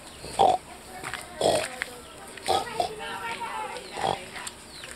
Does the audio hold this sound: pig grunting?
yes